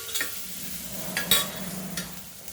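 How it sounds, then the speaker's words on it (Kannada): Bell pepper, beans and tomato sizzle softly in a pan while a spoon stirs them, a few scraping strokes over a steady low fry, close and fairly quiet. "ಈಗ ನೋಡಿ, ಎಲ್ಲ ಒಂದು ಸ್ವಲ್ಪ ಚೆನ್ನಾಗಿ ಬಾಡ್ತಿದ್ದೀನಿ"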